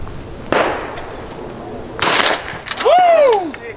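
Shotgun blasts fired at clay targets outdoors: sharp loud broadband cracks near 0.5 s and 2.0 s, each trailing off, followed by a shout or exclamation rising and falling.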